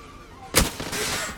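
One sharp, loud gunshot in the online shooter game Zula cracks close by, followed by a rumbling echo tail, with no talk over it.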